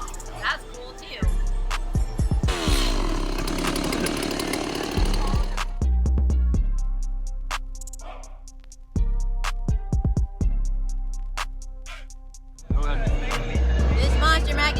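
Chainsaw revving at a Howl-O-Scream Halloween haunted attraction at SeaWorld, loud bursts of buzzing engine surging and dropping repeatedly amid crowd noise.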